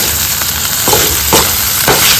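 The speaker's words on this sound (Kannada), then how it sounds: "ಪನ್ನೀರ್ಗಳ ಬೇಗ ಫ್ರೈ ಆಗಿ" Paneer frying in a pan gives a steady, loud, close sizzle, with faint stirring scrapes at intervals and no talking.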